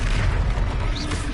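The Confringo explosive spell in the Hogwarts Legacy video game lands as a loud, close, deep boom with a rumbling tail, followed by brief whooshing effects.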